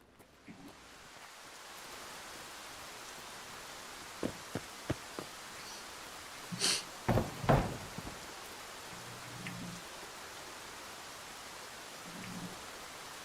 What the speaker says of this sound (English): Didn't hear that because of the rain